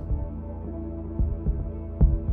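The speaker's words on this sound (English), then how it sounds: "If that's a heartbeat, this is pretty loud." Heartbeat in the horror video game Darkwood, a deep muffled throbbing that thumps in slow, repeated beats, loud and low with no voices over it.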